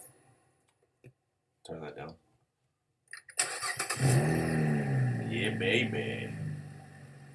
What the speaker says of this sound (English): Oh, runs rough hesitation. Let's listen to it.